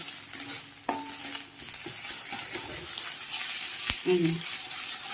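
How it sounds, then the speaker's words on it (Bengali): A spoon stirs and scrapes kharkol leaf paste with a little salt in a pan over a soft sizzle of frying in oil, with occasional clinks and light knocks at close range. "তারপরে পাতা বাটাটা দিয়ে দিলাম নুন দিলাম সামান্য দিয়ে এবার নাড়বো"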